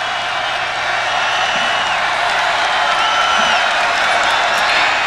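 A stadium crowd of more than 50,000 at the Rose Bowl during a college football game, a loud, continuous roar of cheering and whoops that swells slightly midway.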